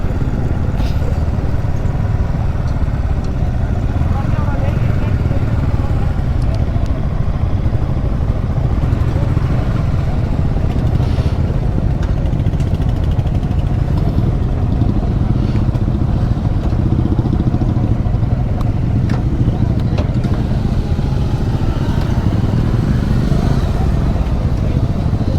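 A dense outdoor rumble of many motorcycle engines idling and revving at a bikers' safety rally on a ground, continuous and fairly loud, with scattered clatter and faint voices in the background.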